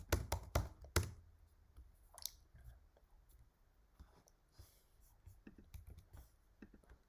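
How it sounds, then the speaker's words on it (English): Keys clatter on a computer keyboard as a prompt is typed, a quiet, close burst of quick taps at the start, then sparser scattered taps. "So I'm just gonna type it down like this"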